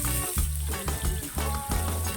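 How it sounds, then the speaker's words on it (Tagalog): Onion and garlic sizzle in a hot pan for a mustard greens dish, stirred in quick rhythmic strokes that scrape and hiss close up. "Kasama ko kayong hinahalo ko yung sibuyas"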